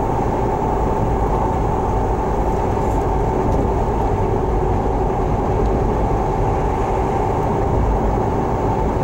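New tires on a pickup hum steadily at highway speed, a loud, constant interior road roar with a faint tonal singing note over it.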